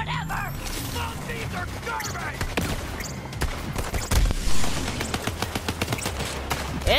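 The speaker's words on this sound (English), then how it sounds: "You were shooting Lilith like that? Oh, this gun got burn damage" Video game gunfire from Borderlands 3, with a burn-damage gun: repeated sharp shot bursts and rapid firing run through the gameplay, joined by mechanical clicks and reloads, loud and close over a steady game soundscape.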